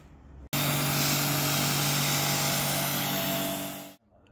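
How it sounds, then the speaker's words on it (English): A jet washer blasts a porcelain patio outdoors in winter, a loud steady roaring hiss with a droning motor tone that starts abruptly, holds for about three and a half seconds, then cuts off. "And Fraser, as you can hear, is still jet washing the front."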